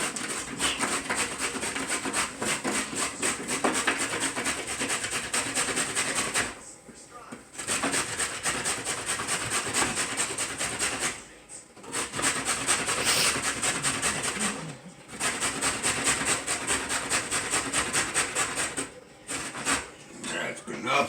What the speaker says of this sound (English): You go ahead and you grate the cheese and grate the carrots.